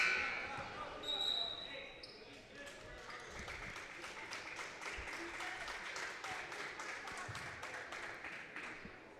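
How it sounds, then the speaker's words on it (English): An audience at a high school girls' basketball final breaks into steady applause, many hands clapping in a loose rhythm that carries on under an announcer's voice in a large gym. "Good round of applause for Darby Fitzpatrick"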